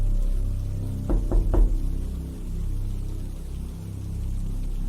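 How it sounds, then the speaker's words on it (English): Three quick knocks in a cluster, muffled and dull as if through a closet door in a hotel room, over a low steady rumble. "it sounded like somebody was knocking from inside the large closet next to the bathroom"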